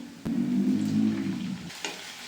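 Tomatoes dropped into browned onions in a pan while cooking sambar raise a steady, close sizzle that lasts about a second and a half, then fades, followed by a brief soft clatter.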